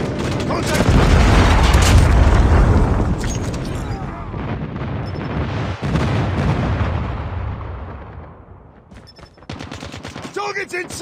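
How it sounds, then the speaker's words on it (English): Call of Duty airstrike and Predator missile explosions: a long, heavy rumble of booms and rapid gunfire, loud and dense at first, then thinning and fading, with sharp shots returning at the end and voices underneath. "Friendly airstrike incoming. Enemy Predator missile inbound."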